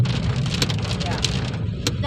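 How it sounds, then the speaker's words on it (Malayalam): Heavy rain pours steadily in Coorg during the evening, a dense, continuous hiss of drops with a brief voice over it. "നല്ല മഴയാ."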